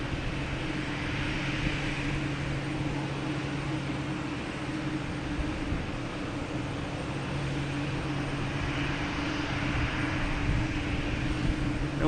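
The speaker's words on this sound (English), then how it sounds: "We have Delta A320neo heading to LaGuardia." A Delta Airbus A320neo jet departing Boston Logan on its way to LaGuardia, heard as a steady, loud broadband engine roar with a low droning hum, holding constant throughout with no voices.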